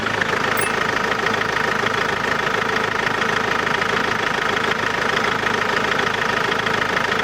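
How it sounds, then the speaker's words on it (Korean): A car engine idles steadily up close with the hood open, a constant mid-pitched running rumble with faint ticking, no voices, unchanging throughout. "일단 엔진 소리부터 한번 들어보도록 하겠습니다"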